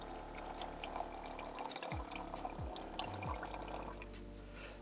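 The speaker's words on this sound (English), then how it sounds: "I'll just put a cup of water in here" Water pours into an MRE flameless heater bag with a soft, steady gurgle against a low background hum, the pitch shifting as it fills.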